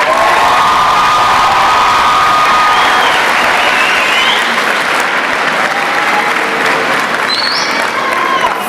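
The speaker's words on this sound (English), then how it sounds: "Graduates, give them a big round of applause." Loud, sustained applause from a large crowd at a high school graduation ceremony, mixed with cheering, whoops and scattered shouts, continuing throughout.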